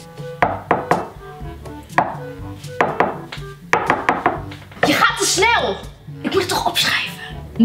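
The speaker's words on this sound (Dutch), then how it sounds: "Drie keer kloppen voor A. één keer voor B. Twee keer voor C." Knuckles rap on a school desk during a test in repeated groups of sharp wooden knocks, close and clear, while people talk between and over the taps.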